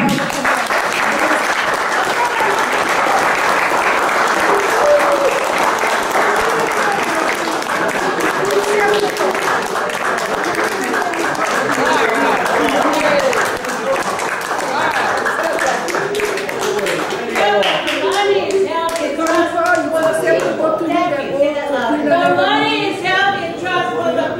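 An audience applauds for OHA, a dense, loud wash of clapping running continuously from start to finish, with voices mixed in and chatter emerging near the end.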